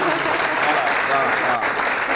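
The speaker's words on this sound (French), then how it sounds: "oui, vous pouvez applaudir" A crowd applauds at a live show, a brief, dense burst of clapping that stays loud and steady, with murmuring voices mixed in.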